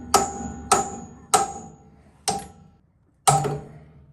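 Five sharp metallic taps of a brass hammer striking a bolt, spaced unevenly with short ringing decays between them, close and clear.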